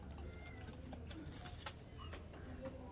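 A pigeon coos softly at a distance, a few low murmuring calls mixed with light chirps and background rustle, over a quiet steady hum.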